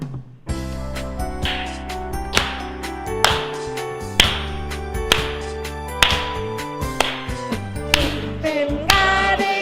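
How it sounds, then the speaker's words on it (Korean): Children at a church worship service clap along to an upbeat praise song, steady claps landing on each beat over loud music throughout. "같이 박수치면서 함께 찬양해 주세요"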